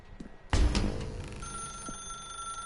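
A telephone rings in The Stanley Parable video game, a loud bell-like trill that starts abruptly and then settles into a sustained electronic ringing tone with a faint background hum.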